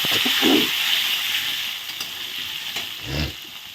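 Potatoes hiss and sizzle in hot oil over a cumin tempering, a steady bright frying crackle with a few soft stirring knocks and scrapes, close and alone without speech.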